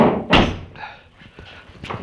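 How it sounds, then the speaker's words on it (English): The trunk lid of a 1968 Dodge Charger slams shut onto a new rubber gasket with one sharp, heavy thunk up close, followed by quieter rattles and a small knock. "Trunk needs a little bit of slamming to get shut, but it's nice and firm on that new gasket."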